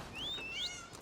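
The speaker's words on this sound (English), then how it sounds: "All these kitty cats." A cat meows in Elder Scrolls Online: one clear, rising, drawn-out game meow heard up close over a low background, with no talk.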